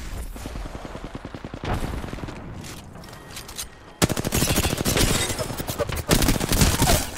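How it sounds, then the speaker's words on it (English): Rapid gunfire from a fast-paced video game shooter, dense bursts of automatic shots that grow louder and more continuous after a short quieter stretch, with faint talk in the background. "he's still shooting me"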